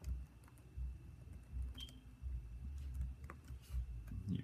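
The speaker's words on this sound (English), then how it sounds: "Alright, I'm typing my email." Computer keyboard keys tapped at a relaxed, uneven pace while an email is typed, soft close clicks over a low room hum.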